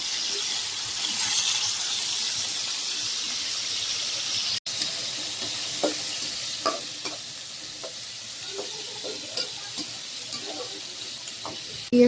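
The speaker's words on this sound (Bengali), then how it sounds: "এটার মধ্যে এই যে মাছ ভেজে নিব, মাছগুলো এই যে দিয়ে দিতেছি।" Fish frying in a pan with chopped onion, a continuous close hiss of hot oil that drops briefly mid-way, then softer sizzling with scattered clicks and scrapes as pieces are added and moved.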